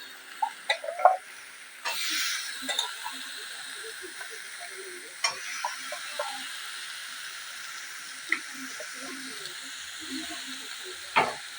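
Pieces of potato dropped into spice masala in a hot pan set off a soft, steady sizzle and hiss, with a burst as they hit the oil and scattered faint clicks and pops afterward, heard alone.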